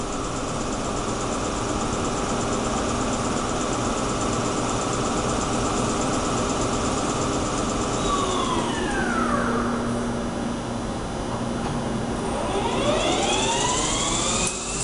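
A 2008 Doosan Puma 400LC CNC lathe spindle turns at 500 RPM in low gear, giving a loud steady mechanical hum with rising and falling whines partway through, no voices.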